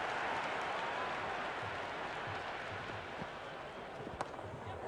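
A cricket stadium crowd at the India vs New Zealand ICC Men's T20 World Cup final, a continuous distant roar of cheering and applause heard faintly and evenly throughout.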